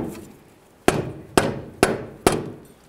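A hammer taps control arm cam kit bushings into the frame of a 1994-2004 Chevy S-10 pickup: four sharp, evenly spaced metallic strikes, close and loud, each ringing briefly before the next.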